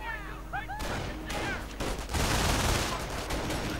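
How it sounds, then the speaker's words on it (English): In a 1v1 strategy war game, machine-gun fire sounds as dense overlapping bursts that grow louder and more sustained, with a few high whistling tones at the start. No speech. "I don't think that burst of MG fire actually did any damage."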